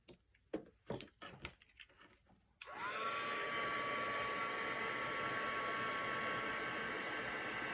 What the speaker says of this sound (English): Heat gun does make the projects go a little bit quicker